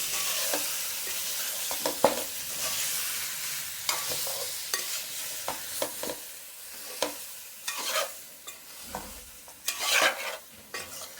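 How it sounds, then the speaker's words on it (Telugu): Fish pieces frying in hot oil for a Telugu fish curry give a steady, close sizzle, broken by scraping and clinking as they are lightly turned, with no talk. "చక్కగా కలబెట్టుకొని ఇట్లా పేర్చినట్టుగా పెట్టుకుంటే మంచిగా అన్ని ముక్కలు ఫ్రై అవుతాయి చక్కగా ఆయిల్లో."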